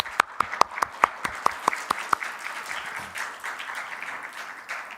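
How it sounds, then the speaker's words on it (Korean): A church congregation at a youth worship service claps to welcome newcomers, with a burst of crisp rhythmic claps up front that fades into soft scattered applause and murmuring. "우리 한번 잠깐 박수로 우리 환영하도록 하겠습니다."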